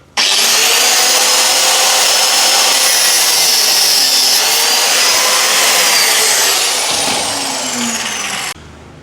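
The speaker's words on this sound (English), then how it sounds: "nip off the tang of this needle file with an angle grinder" An angle grinder cuts through the tang of a steel needle file, a loud, close, high-pitched whine and grinding screech that holds steady and then slowly drops in pitch before stopping abruptly.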